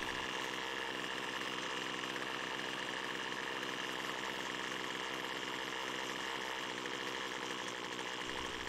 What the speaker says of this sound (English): Now I'll rev it up a few times to see how quickly it revs up